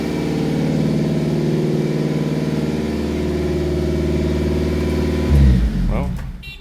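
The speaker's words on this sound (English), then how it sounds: "Idle and high because it's cold." A Subaru Sambar engine idling high while cold, a steady loud mid-low drone holding for about five seconds before a brief louder revving burst near the end.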